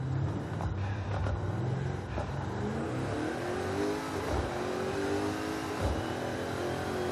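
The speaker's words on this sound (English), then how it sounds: "just listen to that truck" GMC Syclone truck engine in Forza Horizon 5 revving continuously, a deep, loud, close drone rising and falling with turbo whoosh and no talking.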